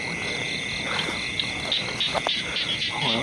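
A rainy-night chorus of small frogs croaks from the ground beside a thorny bamboo thicket, a continuous trilling mass with sharper individual calls poking through, close and fairly loud.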